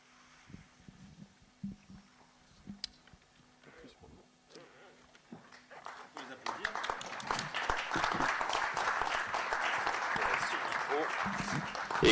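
Audience applause at a firefighters' conference swells from scattered sounds and voices into a steady, fairly loud wash of clapping in the second half, continuing to the end.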